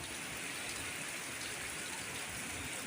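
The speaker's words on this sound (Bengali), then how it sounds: "আবার বৃষ্টি শুরু হয়েছে এই যে ঠিক এই যে এইরকম বৃষ্টি শুরু হয়েছে" Steady, dense rain hisses continuously, a broad even wash of falling water with no pauses or voices.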